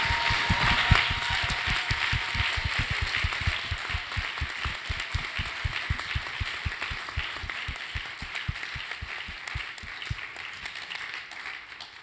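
Symposium audience applauding in a hall, a dense, steady patter of many hands with a regular rhythmic pulse that keeps going for about twelve seconds and fades slightly toward the end.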